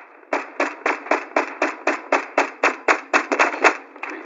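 Rapid series of about fifteen sharp, evenly spaced bursts in Fortnite, loud and close, crackling like a string of firecrackers with no talking.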